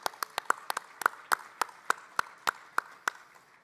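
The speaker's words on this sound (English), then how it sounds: "So please join me in a round of applause for my colleagues" Scattered hand claps from a conference audience at an elections gathering's closing, a dozen or so separate claps spread over a few seconds, fairly faint and sparse rather than a full ovation.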